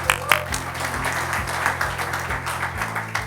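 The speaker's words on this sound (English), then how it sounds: "Big round of applause for Ashton, ladies and gentlemen." An audience applauds for Ashton Bishop at a business strategy event, a short burst of clapping over a steady rhythmic music bed, fairly close and moderate in level.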